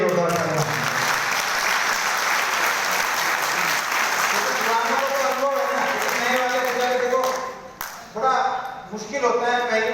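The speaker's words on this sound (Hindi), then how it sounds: "उनके लिए जोरदार तालियां।" Loud, sustained applause from an audience at a celebration program, continuous clapping that fills the space before thinning into scattered claps and voices near the end.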